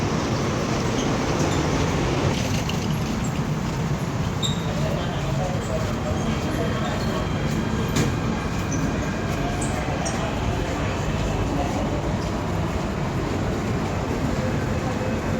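A train pulls through a Hong Kong metro station toward North Point, a steady loud rumble and rush that fills the platform for the whole stretch, with faint higher squeals above it.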